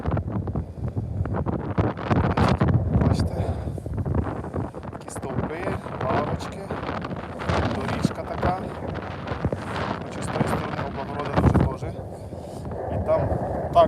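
Strong wind buffets the microphone in heavy, uneven rumbling gusts near the observation wheel at Bukovel, Ukraine, with a voice talking faintly underneath.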